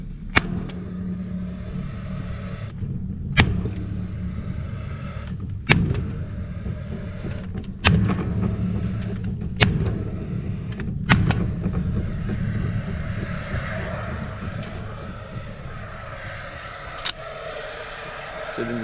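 A Delfast 3.1mm baton staple gun drives staples while fences are repaired after the Canterbury floods, giving about six sharp, loud cracks at irregular intervals over a low, steady rumble.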